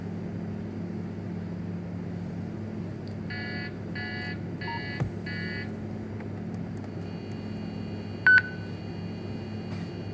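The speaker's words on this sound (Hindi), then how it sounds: "तो अभी एक बीप आएगी, आवाज़ आएगी कि जब वो अपनी होज उठाएंगे तो उनको ऑथराइज़ करना पड़ेगा।" Several short electronic beeps from a fuel pump at a Caltex petrol station in Australia sound in a quick group of four, followed by a single brighter tone, all over a steady low background hum.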